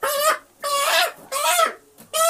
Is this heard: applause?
no